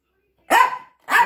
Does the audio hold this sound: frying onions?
no